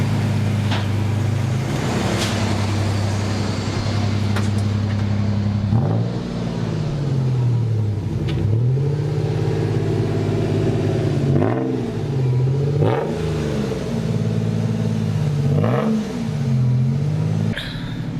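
A Toyota 4Runner SUV engine idles with a deep exhaust rumble, then is revved repeatedly, pitch swelling and falling in several blips, close and loud.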